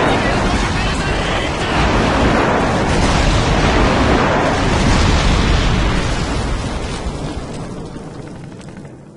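Airstrike explosions in Call of Duty 4, a loud, rumbling wash of blasts that swells over several seconds and then slowly fades out.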